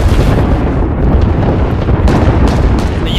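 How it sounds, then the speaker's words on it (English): Loud, dense rumbling blast in Apex Legends, a sustained heavy boom with crackling debris bursts over about three seconds, close and overwhelming, without speech. "There's an explosion going off."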